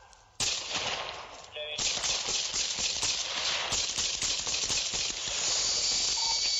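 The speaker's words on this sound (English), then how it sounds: "Walker, I got shots fired." Gunfire erupts during a police confrontation with a suspect after a foot chase, a rapid string of sharp cracks over loud hissing noise that lasts through the whole stretch.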